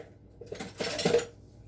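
A spoon scoops Mocha Mica colorant for cold process soap, a brief, soft metallic scrape and clink close by, with no talk.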